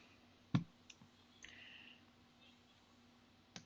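A computer mouse clicks a few times, sharp and quiet, one crisp click followed by softer scattered taps over low background hum.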